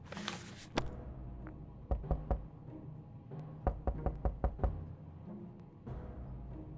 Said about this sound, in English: After breakfast, we heard a knock on our door.